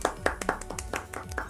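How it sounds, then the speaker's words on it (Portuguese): A few hands clap in a quick, irregular rhythm of about seven sharp claps, close and moderately quiet, with no voices. "Merece uma salva de palmas."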